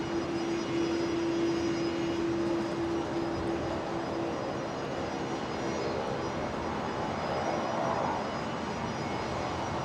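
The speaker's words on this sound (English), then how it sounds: "the Embraer 190 heading to Canberra here from 19 lefts, rolling." QantasLink Embraer 190 jet rolling for takeoff from runway 19 left at Brisbane Airport, a steady broad engine roar with a high tonal whine early on, sustained and moderately distant, with no talk.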